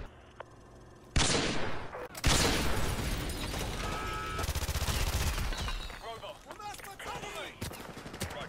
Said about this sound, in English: It's just explosions.